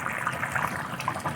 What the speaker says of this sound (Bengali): কাঁচা সর্ষের তেল দিয়ে দেওয়া হচ্ছে।